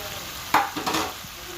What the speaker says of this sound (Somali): baradhada si chipsiga u soo shiilay